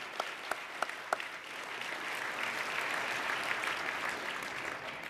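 Sustained audience applause at a fundraising dinner after a band's performance, a few sharp claps at the start swelling into a steady, dense roar of hands that holds to the end.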